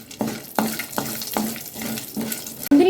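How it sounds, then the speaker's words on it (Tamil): Cashews and black pepper being sautéed in a pan for paneer butter masala, a rhythmic series of scraping strokes about every half second over a soft sizzle, close by, with no speech. "நம்ம எடுத்து வச்சுருக்க முந்திரியும் சேர்த்துக்கிறேங்க. லைட்டாக ஒரு வதக்கி விட்டுடலாங்க."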